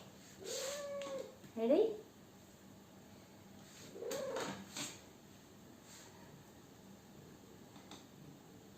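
A cat gives a couple of short, close meows between spells of quiet, while someone speaks softly to it.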